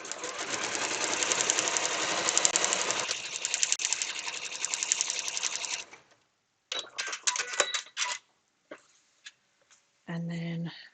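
Sewing machine stitching a quarter-inch seam through fabric: a steady mechanical whirring run for about six seconds, then several short bursts of stitching with pauses between.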